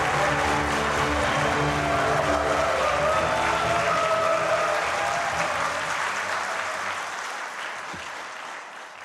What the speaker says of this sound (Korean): 우리 정의선 회장님한테 하는 환호죠